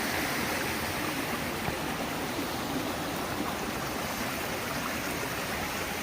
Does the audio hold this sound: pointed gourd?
no